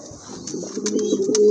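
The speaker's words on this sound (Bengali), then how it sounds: "মাশাল্লাহ আরেক জোড়া কবুতর," Pigeons, a large racing breed kept in pens, coo in soft rounded rolling phrases close by, the calls building in loudness over a second and a half with no talk over them.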